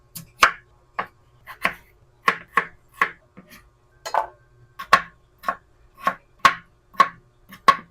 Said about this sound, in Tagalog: Hiwain na natin tong mga gulay natin.